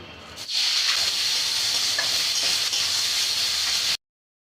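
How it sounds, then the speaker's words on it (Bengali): Onions dropped into hot oil left from frying potatoes, cooking for a chicken curry, give a sudden loud hissing sizzle that holds steady and close, then cuts off abruptly. "এখন আমরা এই আলু ভাজার তেলেই মাংস রান্নার জন্য পেঁয়াজ দিয়ে দিব।"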